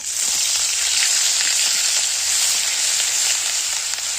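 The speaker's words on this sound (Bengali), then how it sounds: "পেঁয়াজ বাটা রসুন বাটা দিয়ে আমি এটাকে একটু ভাজা ভাজা মতো করে নেবো" Onion paste and garlic paste fry in hot oil with bay leaf and curry leaves for a doi begun dish, giving a loud, steady, unbroken sizzle close by with no talking.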